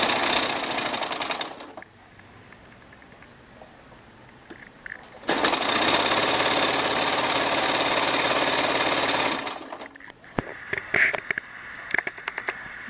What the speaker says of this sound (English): I'm going to stitch this side straight up to the top